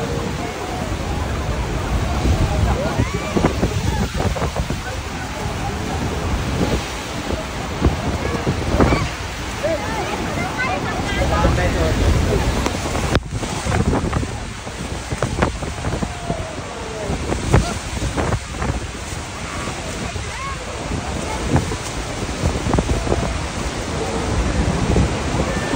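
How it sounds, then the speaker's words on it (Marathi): Horseshoe Falls at Niagara on the Canadian side, heard from a boat ride as a heavy, continuous roar of falling water with wind buffeting the microphone and voices in the background. "हा हॉर्स शू धबधबा आहे, सर्वात मोठा व प्रभावी असून कॅनडाच्या बाजूला आहे"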